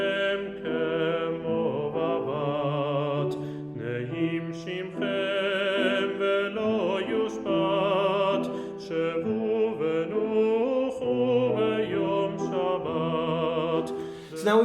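An older recorded version of the Jewish song Dror Yikra, with sustained harmonic voices and instruments flowing steadily and evenly loud throughout, no talk over it.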